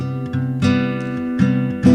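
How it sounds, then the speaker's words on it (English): A major seventh chord played on what appears to be a keyboard, struck and restruck several times in quick succession, its notes ringing clearly and close with no voices. "And then a major seventh sounds like this."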